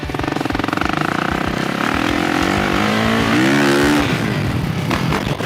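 A dirt bike engine revs hard and loud up close while approaching a jump at speed, its pitch climbing and then falling away as the bike goes airborne.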